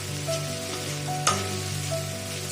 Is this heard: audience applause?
no